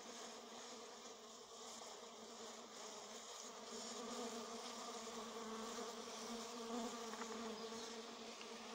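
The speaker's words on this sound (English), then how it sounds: "This is the stingless honeybee, known as the Mellifera trinitatis." Stingless honey bees (Mellifera trinitatis) buzzing around corn plants while gathering pollen, a steady close droning hum of several insects, quiet and without talk.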